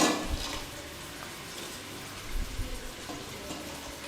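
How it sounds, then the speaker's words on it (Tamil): Cauliflower florets being rinsed and swished in water in a home kitchen while cooking for a large group; a close, continuous splashing and trickling with a few louder sloshes, and no voices. "முதல்ல நல்ல தண்ணியில் நல்லா அலசிடுங்க"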